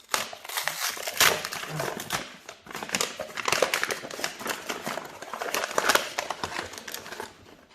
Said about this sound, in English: I'm trying to peel the initial picture off of the box here.